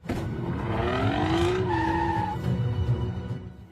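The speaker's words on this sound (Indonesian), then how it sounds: "Sedangkan Jack sendiri berhasil kabur dengan mobil yang ia rampas dari salah seorang pengendara." A car in a film chase skids away with a loud, rising tire squeal that holds for over a second before fading into engine and road noise, with no talk.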